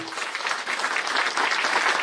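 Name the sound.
audience applause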